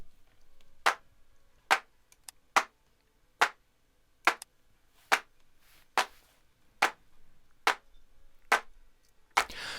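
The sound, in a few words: raw unprocessed clap samples in a mix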